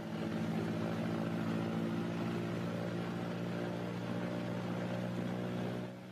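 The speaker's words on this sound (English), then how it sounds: "Next is the engine run-up and prop check, one engine at a time." A B-26 Marauder runs its engines up for a propeller check. A steady, droning piston-engine roar holds throughout and eases slightly near the end, with no voices.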